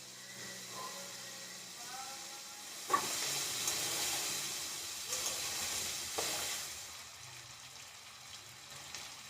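Oil sizzles and hisses in a pan while fulkopi posto is cooked, a moderate steady frying sound with a few sharp crackles and stirring scrapes.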